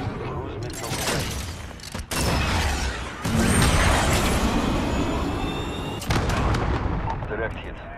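Heavy explosive rumbles, mechanical creaks and whooshes fill a Call of Duty: Modern Warfare hardcore Domination match on St. Petrograd as a cruise missile strike lands, loud and continuous with sharp breaks, and voices are heard underneath.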